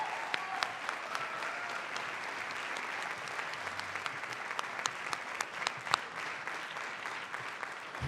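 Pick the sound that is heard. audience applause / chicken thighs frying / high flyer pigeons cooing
audience applause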